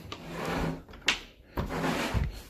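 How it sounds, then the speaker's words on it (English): A wooden door at a 1950s homestead cabin creaks and bumps as it is opened, with two scraping, thudding movements close by and no talking. "Always got to open up the damn door."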